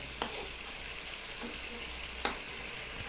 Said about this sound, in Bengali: হালকা জল অ্যাড করে করে এইভাবে কিছুক্ষণ কষে নিতে হবে।